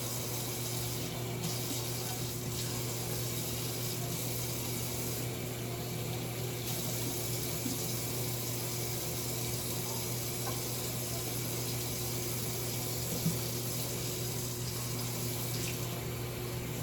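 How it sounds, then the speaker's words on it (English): A kitchen tap runs steadily while hands are washed, giving a continuous even hiss of flowing water at close range, unbroken for the whole stretch with no talk. "Wash your hands one more time"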